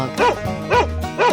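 A dog in a 3D animal slide video game barks three times in an even rhythm, close and loud over background game music, with no talk.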